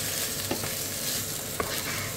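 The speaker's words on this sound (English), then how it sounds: "Keep stirring, we don't want the ginger or the garlic to burn just yet." Scallions, peppers, ginger and garlic soften in a hot pan, giving a soft continuous sizzle, with a couple of faint clicks from a utensil as they are stirred.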